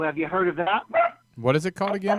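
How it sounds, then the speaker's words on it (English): A household dog gives a couple of yips or barks that run together with voices, the barking close and mixed in under the conversation. "That's our dog."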